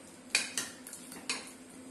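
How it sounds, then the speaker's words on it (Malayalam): A spoon clinks against a pot while jackfruit seed and drumstick curry with chilli powder, turmeric and salt is stirred: three or four quick metallic taps, close and soft, over a low hum. "എന്നിട്ട് ഇതൊന്ന് ഇളക്കി കൊടുക്കാം"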